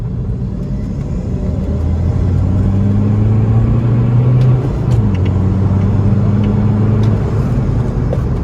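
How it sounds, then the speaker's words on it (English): A car engine pulls hard in third gear from about 30 and shifts into fourth toward the speed limit, a loud steady interior drone that rises in pitch, drops briefly at the gear change, then climbs again. "Hard acceleration, that was third at 30 all the way to 4th at the speed limit."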